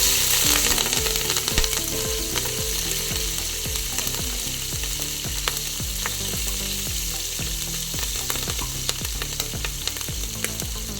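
Chopped ginger, garlic and green chilies fry in a pan for tomato rice, with a loud continuous sizzle and regular scraping strokes of stirring repeating roughly every second throughout.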